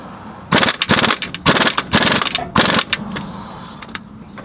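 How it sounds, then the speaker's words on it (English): An air-powered ratchet impact gun works a stuck bolt on a 1997 Jeep Cherokee Sport, firing in four loud, rapid rattling bursts close by, with brief pauses between them and a quieter tail. "You need to enlist the help of a air-powered ratchet impact gun."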